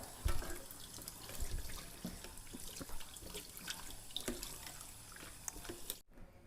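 Blanched water spinach is rinsed in cold water, with steady splashing and trickling running water, scattered drips and soft knocks close by, ending abruptly after about six seconds.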